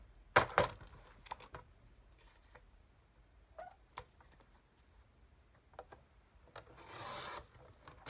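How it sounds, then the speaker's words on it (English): A paper card for a journal is trimmed. A few crisp, quiet snips and clicks come close by, then a brief rasping cut near the end. "It's just a smidgen long, so I'm just going to trim that."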